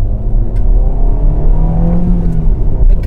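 A Mazda 2 accelerates in third gear, loud and close from inside the cabin, with a rising mid-pitched engine drone and deep rumble building steadily over three seconds.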